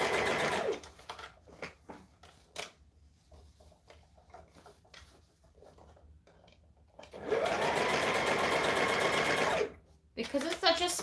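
A sewing machine stitches scrunchie fabric in two steady whirring runs, a short one at the start and a longer, louder one later, separated by quieter fabric handling and small knocks.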